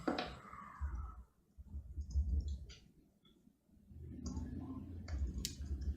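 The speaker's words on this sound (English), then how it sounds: "I'll type." Typing on a keyboard, faint scattered clicks in two bursts separated by a short pause, over a low background rumble.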